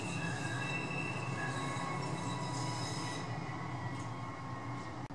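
A train rolls past nearby with a steady rumble and high metallic wheel squeal, loud and continuous throughout.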